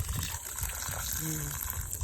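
Water runs steadily from a tap or pump outlet for watering plants in a home garden, a continuous broadband gush with brief overlapping speech partway through.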